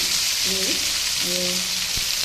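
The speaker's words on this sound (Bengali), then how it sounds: "অন্য শুকনো লঙ্কা তেলে নিয়েছি, যার লাগবে সেটা খেয়ে নেবে।" Dry red chillies frying in oil in a home kitchen, a loud, close, steady sizzle with a couple of brief tonal clinks and no talk.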